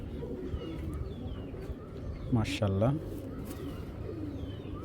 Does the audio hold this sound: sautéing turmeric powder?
no